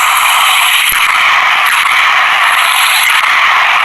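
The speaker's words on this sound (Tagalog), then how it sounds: "So, ganito din yung tunog ng Heckler and Koch MP5" Rapid, continuous burst of automatic fire from a Heckler & Koch MP5 submachine gun, loud and dense with harsh crackling throughout, no pauses, with no talking.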